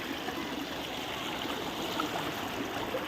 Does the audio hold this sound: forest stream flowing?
yes